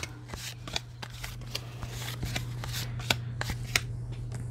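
Paper library pockets dealt out one at a time, a quiet series of crisp paper slaps and flicks in an irregular rhythm over a low background hum.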